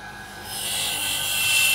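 A blank of agarwood being dry-ground to round it into a bead, a steady close abrasive rasp that builds slightly in intensity and continues without pause.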